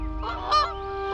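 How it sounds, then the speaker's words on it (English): Migrating geese honk in short nasal calls over a steady low hum, moderately distant and fairly quiet, with no voices present. "the call of migrating birds"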